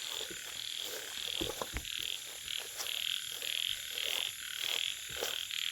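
Frogs croaking at night in a rural wetland while out frog hunting, a chorus of repeated raspy calls in a steady rhythm over dense night insect hum, moderately near with no talking.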